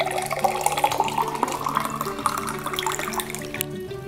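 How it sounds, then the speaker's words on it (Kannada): Water poured from a tap into a large vessel to make a neem-leaf herbal decoction, a steady close splashing stream that rises slightly in pitch as the vessel fills. "ಸೊ ಈಗ ನಾವು ಅಷ್ಟು ನೀರನ್ನು ಹಾಕ್ಕೊಳ್ಳೋಣ."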